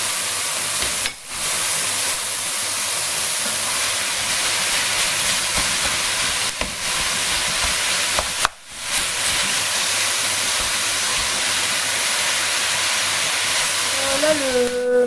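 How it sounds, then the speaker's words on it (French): Beef searing over high heat in a pan gives a steady, loud broadband hiss and sizzle. It runs almost unbroken, with two brief dips and no talk. "Donc là je vais faire cuire ma viande."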